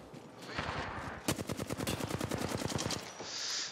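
Automatic gunfire in the Apex Legends video game, a rapid string of close, loud shots in a steady burst lasting a couple of seconds, preceded by other game noise.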